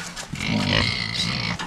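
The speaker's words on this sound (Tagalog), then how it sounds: "Ito yung mga hinahanap na baboy ni Tita Leonie." Pigs grunt and snort close by on a farm, a dense, continuous run of rough low grunts lasting nearly two seconds with no talk over it.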